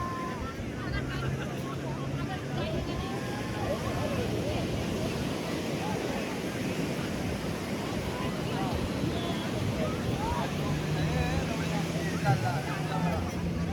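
Boat ride off Baga Beach in Goa, with a steady motor drone, wind buffeting the microphone and water rushing throughout, while people talk over the noise.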